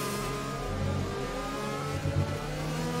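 An F1 2020 Renault race car in the video game at the Abu Dhabi GP revs and drops through gears, its engine whine rising and falling in steady pulses, loud and continuous with no talk.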